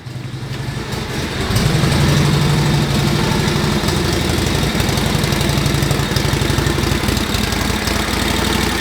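A 1949 Harley-Davidson WL flathead engine from a barn find idles loudly nearby in a smoky shop, needing a new exhaust, a rough, knocking rumble that steadies after a brief rise in the first seconds.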